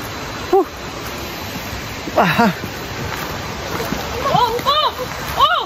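A river waterfall roars as a steady, loud rush of water throughout, with people's voices calling out briefly over it.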